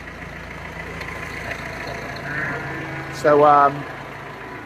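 A farm tractor idles with a steady low mechanical hum in the background while someone talks over it, his voice louder than the engine.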